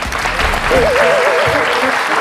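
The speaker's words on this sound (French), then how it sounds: "En 3e position, Rihanna, applaudissements" Applause for a Rihanna look-alike at a look-alike show, steady and close with crowd noise, and a wavering tone running through the middle.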